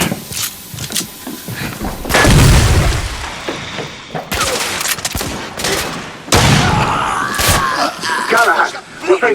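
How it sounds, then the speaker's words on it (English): Grenade blasts during a firefight aboard an airship in The Order: 1886 on PlayStation 5: several loud booming explosions with long rumbling tails and sharp gunfire bursts in between, with occasional voices in the mix. "Grenade out."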